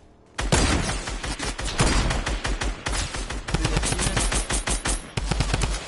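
Rapid automatic gunfire from a Fortnite match rattles out in dense, loud bursts, starting abruptly after a brief quiet and continuing with short pauses between volleys, with no talk over it.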